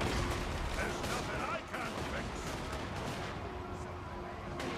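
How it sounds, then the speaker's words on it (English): Dwarf troops fire a volley in the Total War: Warhammer video game, heard as dense, continuous gunfire and battle noise that fills the whole stretch, with a voice talking over it. "Let's just pop it for the armor piercing damage. Shoot another volley in there."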